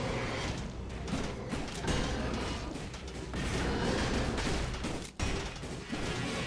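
Turrets firing in the Dead Cells video game: a steady, dense stream of gunfire and thudding impacts mixed with game music and effects, with one sharp break partway through.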